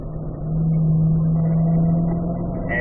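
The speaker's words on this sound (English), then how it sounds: "down to 3rd gear" Car engine on a track session dropping down to third gear, a steady loud low hum that rises slightly and holds through a short stretch, with no talk.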